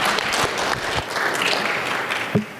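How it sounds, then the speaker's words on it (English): Conference audience at FOSS4G NA 2023 applauding the speakers, a dense burst of clapping filling the room with a brief louder clap near the end. "give them a round of applause to get them going"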